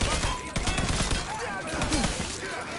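Rapid, dense gunfire from a high-capacity gun in Mafia 3, a continuous fusillade running the whole stretch with game sounds layered over it.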